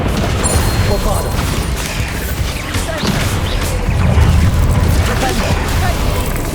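Spell explosions in Hogwarts Legacy crash out one after another amid dense, continuous rumbling booms and clattering impacts, loud and layered with no clear gaps.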